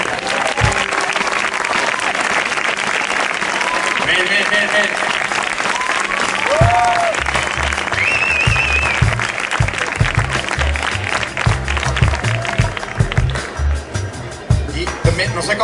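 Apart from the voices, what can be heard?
strong applause from festival audience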